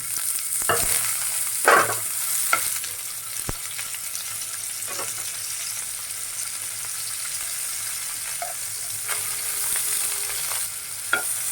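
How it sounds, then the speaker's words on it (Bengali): Cauliflower florets sizzle quietly in hot oil in a pan, with occasional scrapes and clinks of a spatula stirring, frying before tomatoes are added for a cauliflower-tomato mash. "সেই কপিগুলি আমি এখন ভেজে নেব"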